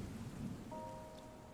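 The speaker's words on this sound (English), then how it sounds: "It's raining." Steady rain falls in the terraforming video game Terra Nil, a faint continuous hiss with a soft low rumble of thunder underneath and a brief tonal chime in the middle.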